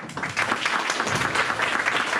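A room full of people clapping for a Scout receiving his Eagle rank, steady mid-level applause that swells slightly after the start and holds evenly throughout.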